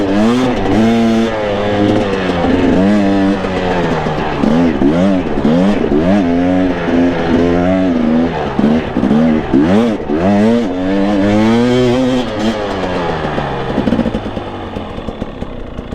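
A Honda CRF125F dirt bike engine screams at full throttle while climbing a steep off-road hill, its loud, steady high-pitched whine rising and falling with the revs, close and continuous throughout.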